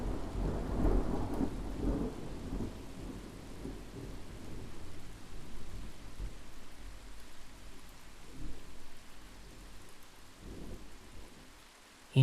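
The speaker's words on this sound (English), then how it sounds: "the bombarding rain barraging from the stormy, thundering clouds above" Steady heavy rain pours down while thunder rumbles low and long, with no voices.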